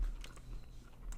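Close chewing of a crunchy cheesecake with a cinnamon crust and almonds from a food truck, a few quiet crunchy bites in quick succession.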